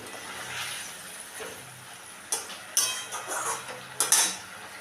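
Katla fish being mixed with spices in a pan, a quiet stretch followed by several sharp clinks and scrapes of a utensil against metal, irregular and close.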